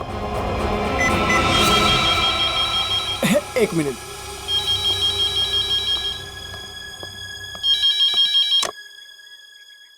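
A telephone rings in repeated electronic bursts, loud and nearby, while someone speaks briefly over it.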